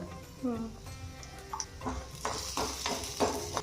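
Dried red chillies and asafoetida fry in hot oil in a pan, giving short crackling sputters and a soft sizzle with occasional utensil clinks, heard under a person talking nearby.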